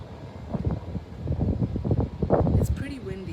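Gusty wind buffets an outdoor microphone in a steady low rumble with fluctuating surges, no voice present.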